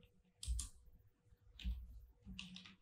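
Keys tapped on a computer keyboard while entering code, coming in three short bursts of quick clicks about a second apart, close and fairly quiet, with no voice.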